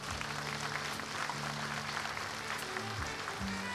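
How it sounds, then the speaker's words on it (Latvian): A crowd at the Miss and Mister Balvi 2012 pageant applauds the ten contestants, steady clapping filling the hall throughout while a voice and music sit faintly beneath. "Aplausi viņiem visiem 10 šajā brīdī."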